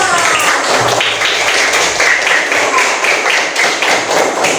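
Schoolchildren in a classroom clap their hands in loud, dense, continuous applause that lasts throughout, with no voices over it.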